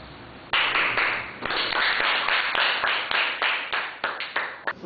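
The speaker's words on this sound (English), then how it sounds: "A round of applause for our 2 competitors" An audience at a school mocktail competition applauds two competitors, with a few distinct close claps building into irregular, rhythmic clapping from a small group.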